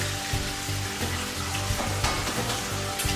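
Eggs fry in a busy breakfast pan with hash browns, giving a loud, steady close sizzle with crackling spatters and a few faint scrapes of stirring.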